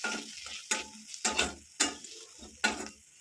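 Spices with turmeric and coriander powder are stirred in a pan, giving about five distinct scraping strokes in an uneven rhythm, close and fairly quiet, with a soft sizzle between them and no speech.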